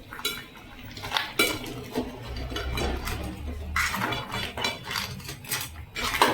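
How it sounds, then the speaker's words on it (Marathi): A spoon scrapes and clinks against the inside of a metal pot in irregular bursts, stirring crab curry masala close up with brief pauses between strokes. "मिक्स म्हणजे थोडंसं हलवून घेते जस्ट"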